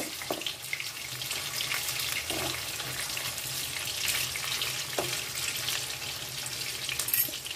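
Chital fish muitha dumplings fry in oil, giving a steady, fairly loud bubbling hiss with a few faint knocks and no speech.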